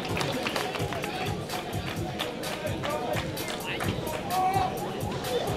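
A crowd in the stands of a sports court applauds as players come in, a steady wash of clapping mixed with crowd babble and voices that holds throughout.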